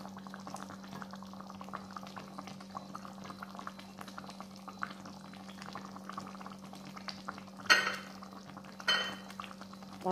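Sweet and sour squid sauce simmering in a pan as its water reduces, a soft steady bubbling under a low constant hum, with two brief louder clatters near the end.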